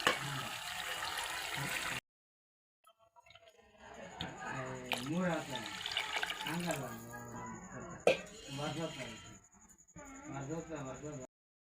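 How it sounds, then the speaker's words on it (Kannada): A burst of hissing, sizzling water poured into hot oil with frying country chicken, then a pause, then close talking with faint kitchen clatter in the background. "ಈಗ ನೀರು ಹಾಕೋತೀನಿ"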